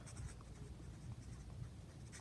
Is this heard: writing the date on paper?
yes